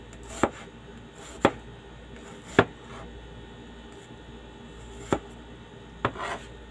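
A kitchen knife thinly slices radish on a cutting board, giving five sharp, isolated chops spaced unevenly over a quiet room tone, each hit close and crisp.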